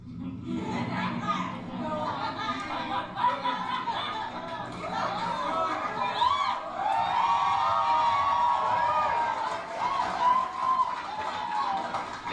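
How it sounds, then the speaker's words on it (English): An audience at a political speech breaks into sustained clapping mixed with cheering and crowd chatter, a dense, continuous wash of applause that rises and holds for several seconds. "they're still clapping as if they never heard this before"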